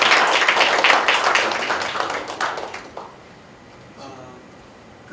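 An audience at a church pastors' forum breaks into dense applause that tapers off after about three seconds, leaving a quiet room with a brief voice near the end.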